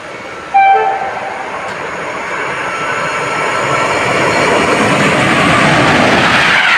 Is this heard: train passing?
yes